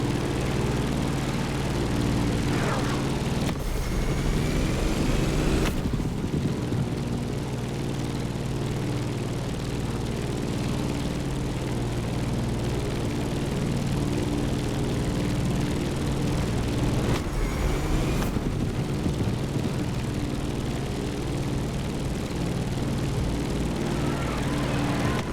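The Civco Edge propeller plane in the racing game The Crew Motorfest drones with a steady engine roar throughout, loud and continuous, with a couple of brief whooshing passes.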